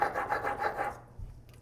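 A hand plane blade is honed on a sharpening stone, its edge rubbed in steady back-and-forth rasping strokes, about five passes close by, before a quieter pause.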